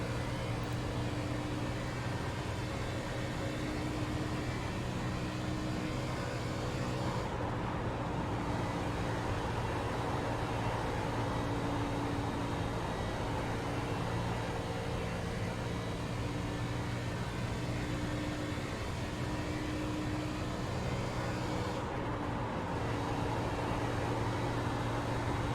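A race car engine drones steadily at high revs for the whole stretch, with a dense, even roar and no letup, during a hot lap of the Chicagoland oval in the iRacing sim racing game.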